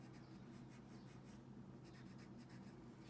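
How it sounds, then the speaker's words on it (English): A pencil colors in a square on paper with steady, soft back-and-forth scratching strokes, close and quiet, with no talking. "I'm only going to use a pencil because if you only have a pencil, this is good enough. And I'm just going to start coloring in one of the squares"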